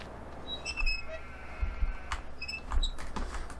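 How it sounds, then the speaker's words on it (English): A squeaky windmill in the Farming Simulator 15 video game gives off scattered high creaks and squeaks at irregular intervals over a low background rumble, with no talking. "A very squeaky windmill."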